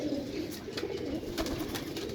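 Rampuri pigeons coo in low, throaty, repeated calls over a steady hum of birds nearby, with a few brief rustles and clicks mixed in.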